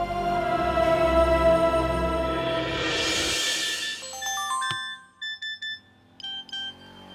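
Mobile phones chiming with message notification tones in a Tamil film scene where three phones get a message at once: a rising swell of music gives way to several short bright beeps in quick bursts, fairly loud and without speech.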